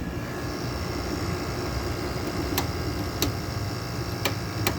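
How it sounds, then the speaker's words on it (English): Window-style air conditioner running with a reciprocating-sounding compressor and a fairly quiet fan, giving a steady broadband hum with a few faint sharp ticks scattered through it. "compressor on this kind of sounds like a recip, which is kind of interesting. And the fan on this isn't too loud."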